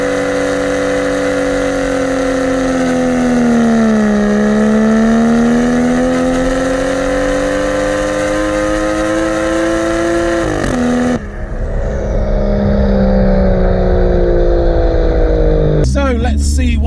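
A 300 bhp Toyota Soarer engine revs hard and close, pitch sweeping up and down in steady harmonic waves before a sudden cut, then a rougher, lower running tone with a sharp burst near the end.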